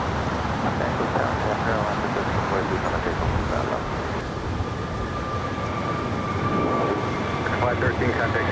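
A Boeing 777 freighter taxis at LAX, its engines giving a steady broadband roar with a faint tonal whine, close and constant for the whole stretch, with no one talking.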